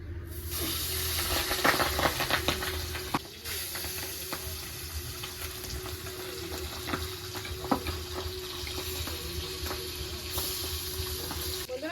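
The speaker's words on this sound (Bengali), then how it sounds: "তেলটা গরম হয়ে গেছে এবার মাছগুলো ভেজে নেব" Pabda fish sizzle and spit steadily in hot oil, a close, continuous frying hiss broken by scattered pops and light clatter, with no one speaking.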